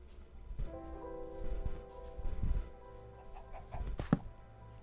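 Chickens in the video game Minecraft give soft, scattered clucks against a quiet background of low sustained tones, with no talking.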